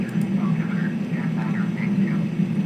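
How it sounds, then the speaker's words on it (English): A Learjet's jet engines drone steadily in Flight Simulator X during descent on the way from London Heathrow to Manchester, a constant low hum heard under faint speech. "Just let the plane gradually slow down."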